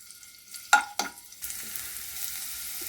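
Garlic hits hot oil for chicken Manchurian, with two sharp clanks of the utensil on the pan and then a sudden sizzling hiss that carries on steadily, close by and with no one talking.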